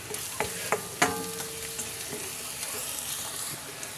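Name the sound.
stirring seafood in Cajun seasoning in a pan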